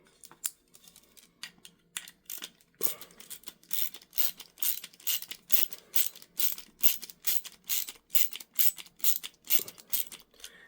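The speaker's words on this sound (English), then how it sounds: "Now it excels far better as an inline ratchet." Atuman ratcheting bit and socket driver clicking close up, a rapid run of sharp ratchet-pawl clicks in quick bursts, faint at first then steady and loud, with no talking.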